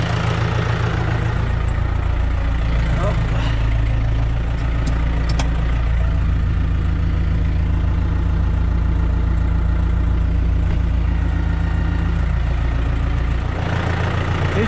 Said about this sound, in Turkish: Yavaş yavaş traktörü bırakalım ileriye.